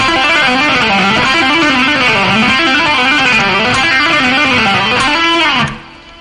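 A distorted electric guitar rips through a fast legato lick of hammer-ons and pull-offs at full speed, a loud, fluid run of notes that stops abruptly near the end and lets the last note ring out.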